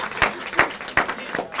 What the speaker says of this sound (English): Y'all should have clapped right there.